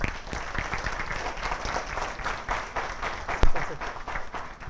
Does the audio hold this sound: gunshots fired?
no